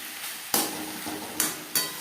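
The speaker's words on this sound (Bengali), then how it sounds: "মশলার সাথে ও পেঁপের সাথে ঘি বেশ ভালো করে মিক্স করে দেবো।" Papaya being stirred with ghee and spices in a pan: a low, continuous sizzle broken by three sharp knocks of a spoon against the pan, close up and with no talking.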